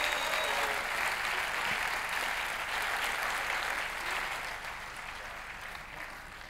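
Sustained applause from a business congress audience for Florence, a thick, even clapping that holds steady for several seconds and eases slightly toward the end, with no speech over it.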